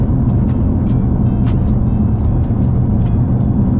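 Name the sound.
Nissan GTR accelerating and shifting gears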